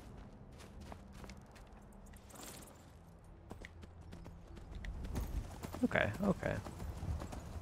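Rhythmic hoof clip-clops from a horse in Skyrim, faint at first then closer and louder toward the end, with a brief spoken word.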